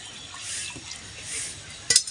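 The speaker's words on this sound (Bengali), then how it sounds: "সিদ্ধ করার জন্য অল্প পরিমাণে জল দিয়ে দেবো" Water poured into a cooking pot for boiling spinach, a soft continuous hissing splash close by, ending with a brief sharp clink against the pot.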